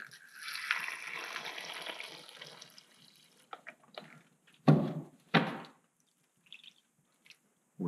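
Water pours and splashes into a small pigmented concrete mix for about three seconds, followed by a few sharp thunks and scraping knocks of mixing, quiet and close.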